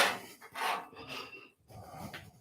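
Objects scraped and shuffled across a woodworking table beside a table saw in a workshop, with several short rubbing, sliding bursts at close range and brief pauses between them.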